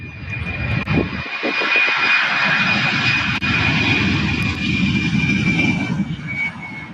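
A Boeing 767 airliner descends steeply toward SDF airport, its engines producing a loud, sustained roar with a thin high whine riding on top, passing close overhead.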